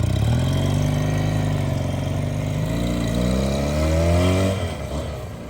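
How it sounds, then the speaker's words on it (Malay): A 250cc parallel twin motorcycle engine runs steadily and loudly close by, its low rumble rising in pitch as it revs, then dropping back near the end. "Kalau parallel twin ni biasanya bunyi dia akan menghasilkan macam ni."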